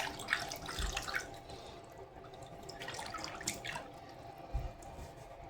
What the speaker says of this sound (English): I just stir it with my hand